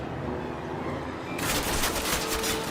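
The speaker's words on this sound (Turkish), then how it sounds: "İşte bahsettiğimiz yüksek kalibreli silah bu olsa gerek" A high-caliber gun fires in Call of Duty, a sudden loud burst of rapid gunfire over steady game ambience.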